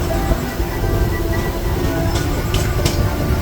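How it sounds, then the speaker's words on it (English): A Disneyland Railroad train rolls steadily into Tomorrowland Station with a continuous loud rumble and rail noise, a couple of brief high squeals near the end, and no talk. "this train is now arriving here at Tomorrowland Station"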